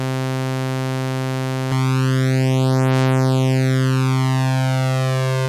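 A sustained low note played on Take 5 and Prophet 5 synthesizers rings loud and steady, with a sweeping phasing shimmer in the upper harmonics partway through before it cuts off.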